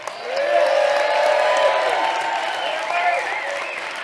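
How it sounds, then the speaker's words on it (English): An audience at a winter speaker series event at an outdoor sports shop claps and cheers, with whoops and raised voices over steady applause that swells and then slowly eases. "So let's give it up for Jared"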